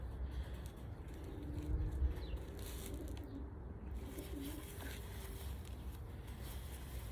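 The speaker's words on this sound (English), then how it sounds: "Beautiful bird." A racing pigeon cooing softly, with low, faint coos over a hushed, steady background hum.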